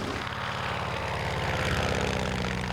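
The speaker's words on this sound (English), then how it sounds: "The engine sounds smoother than at the beginning of the flight." An airplane engine drones steadily in flight, a continuous propeller hum with a rhythmic beat that holds at an even level throughout.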